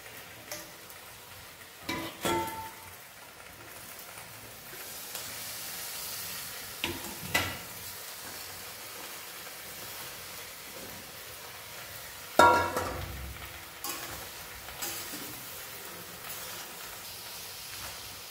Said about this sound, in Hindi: वन बाई वन जितना भी वेजिटेबल्स है ये सब सारे वेजिटेबल्स इसमें हम थोड़ा फ्राई के लिए दे दूँगा